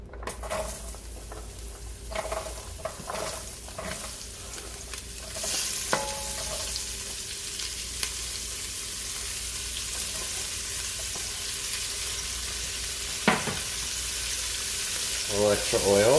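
Carrots and onions fry in oil in a pan with a steady hissing sizzle. Scattered clinks and scrapes of a utensil sound early on, the sizzle swells midway, and a sharp metallic knock and rustling follow near the end.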